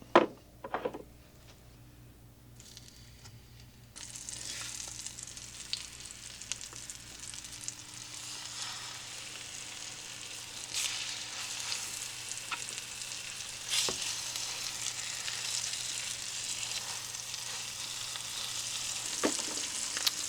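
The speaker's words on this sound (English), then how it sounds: "I'm going to cook it in butter. Just basically searing both sides of it" Meat sears in butter with garlic, salt and pepper in a pan aboard a boat at a free wall in Joliet, giving a steady, fairly loud sizzle that swells after a few seconds, with occasional utensil knocks and stirring.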